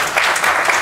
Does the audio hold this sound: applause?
yes